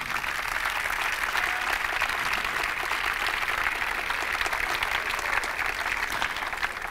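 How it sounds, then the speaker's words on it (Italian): An arena audience at a basketball team presentation for Carpegna Prosciutto Basket Pesaro applauds steadily, a dense, continuous wash of clapping that holds at a constant loud level throughout. "Facciamo un applauso."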